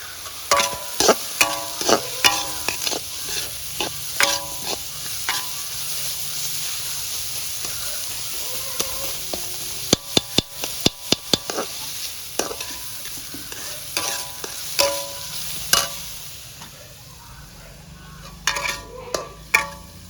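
Onions fry on a hot pan for egg kothu, with a steady sizzle under repeated sharp clacks and scrapes of stirring utensils coming in irregular bursts and no voices.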